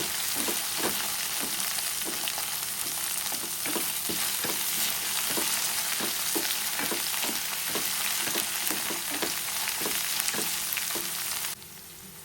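Washed taro leaves (chamaku) frying in a pan for a curry: a steady, close sizzle broken by regular scraping clicks of stirring, with no talk.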